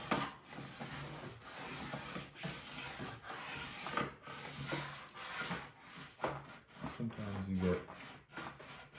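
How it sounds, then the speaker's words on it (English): A scraper is drawn back and forth over a rough, worn snowboard base to strip off wax, making quiet, repeated rasping strokes in an uneven rhythm; a voice talks softly at times beneath the scraping. "Once you can start feeling the scraper slide back and forth freely"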